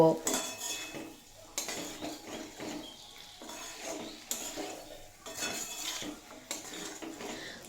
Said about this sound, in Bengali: আগে থেকে ভেজে রাখা কুমড়ো দিয়ে এক মিনিট মতো সমস্ত উপকরণের সঙ্গে মিশিয়ে নেব